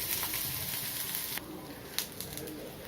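Fish frying in a pan after being flipped over, a steady close sizzle with a couple of brief knocks partway through and no talking.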